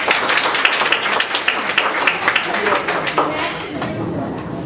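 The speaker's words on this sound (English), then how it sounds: "Please give them another round of applause." An audience claps for a conference panel, a dense, steady burst of many hands with a busy room murmur behind it, fading slightly toward the end.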